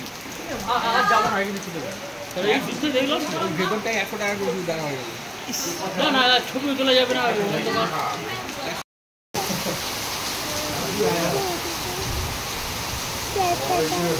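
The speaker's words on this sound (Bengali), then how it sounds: "খাওয়া শেষ হতে হতেই বৃষ্টি চলে এসেছে" Steady rain falls in the Sikkim hills, a broad continuous hiss that runs throughout while people talk over it in the first part.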